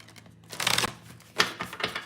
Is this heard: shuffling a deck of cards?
yes